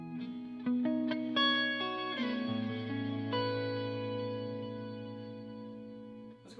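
Electric guitar played through reverb and delay on a Boss RV500 pedal, a run of plucked notes and chords ringing out into long sustained, echoing tails that hold steady before fading near the end, no talking.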